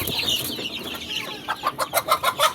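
Rhode Island Red chicken on a farm, close and fairly loud, giving a run of rapid rhythmic clucks that follow a short squawk.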